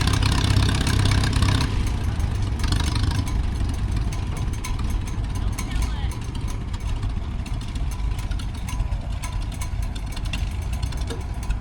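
An antique tractor engine running at a county fair slow race, a loud, steady low chugging that carries on without a break, with faint crowd noise around it.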